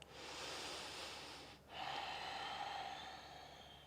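A single long exhaled breath during a yoga session, a soft airy rush that fades briefly before a second steady outbreath continues. It sounds close and fairly quiet, with no talking.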